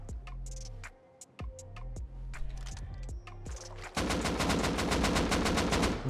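Gunfire in the survival game Rust: scattered close single shots and sharp cracks, then a loud, sustained burst of rapid automatic fire running steadily to the end.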